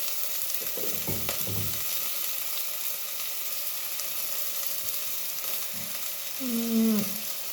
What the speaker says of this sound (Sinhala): ඔන්න ළමයි මම දා ගන්නවා මේකේ තියෙන්නේ මිරිස් ලුණු කරපිංචා රම්පේ